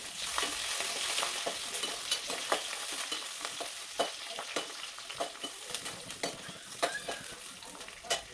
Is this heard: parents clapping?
no